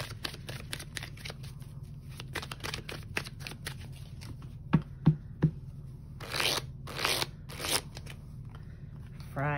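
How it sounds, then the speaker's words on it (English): Tarot cards being shuffled by hand at close range, a soft papery riffle and rustle with a few sharp taps midway and brisker bursts of flicking toward the end, no talking. "feel I need to shuffle again"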